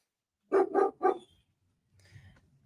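A dog gives three quick, loud barks in close succession as neighbors arrive home, followed by a faint low rumble of background noise.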